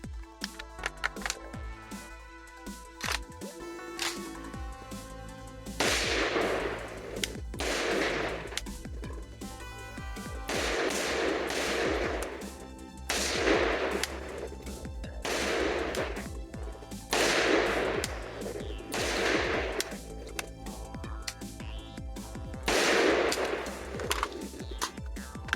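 An M85 AK-pattern rifle in 5.56 fed from an ISD RPK-556 magazine fires repeated strings of sharp, loud shots, with short pauses between bursts that ring out against quieter gaps.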